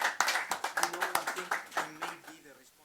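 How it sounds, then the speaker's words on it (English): Clapping from a small conference audience after a panel discussion, sharp uneven hand claps close by that thin out and fade, with voices talking over them. "Please give them a nice warm round of applause."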